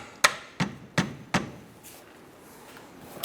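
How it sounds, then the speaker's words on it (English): Four sharp metallic taps ring out in quick succession near the brake hose bracket while fitting a rear upper control arm on a 2004-2009 Mazda 3, followed by a quiet pause and a faint knock. "I'm gonna give it a little tap."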